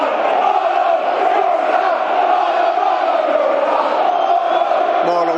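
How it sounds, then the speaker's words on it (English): A packed football crowd at a Millwall home match against Cardiff City roars continuously in uproar, a dense, loud wall of shouting and chanting that holds steady throughout without a break. "The crowd in uproar over there."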